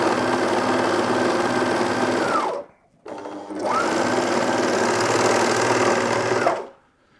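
A Juki MO-2000QVP overlocker stitches a seam through two layers of lycra, running loud and steady in two long bursts separated by a brief pause before stopping.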